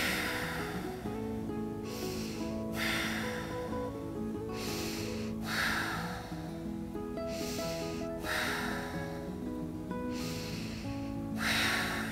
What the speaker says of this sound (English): We're going to take 5 breaths.